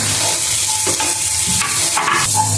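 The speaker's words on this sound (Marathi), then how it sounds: "याला छान तेलावर लालसर रंगाचं होईपर्यंत भाजून घेऊया" Sliced onions frying in oil for a spicy village-style prawn curry, a steady close sizzle with light stirring scrapes throughout, no voices.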